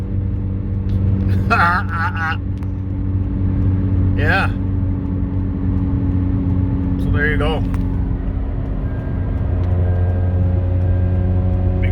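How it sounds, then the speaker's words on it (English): A 2010 Kia Soul engine idles with an exhaust leak, giving a steady low rumble and drone throughout, while someone speaks briefly over it. "Exhaust leak."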